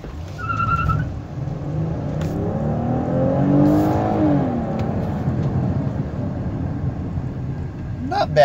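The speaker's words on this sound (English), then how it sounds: "So with normal acceleration in L mode, see how it's carrying those gears a little bit longer?" A Chrysler Pacifica minivan accelerates in L mode, its engine note climbing and holding through the gears with a steady, fairly loud whirring drone heard from inside the cabin, with a faint click near the start.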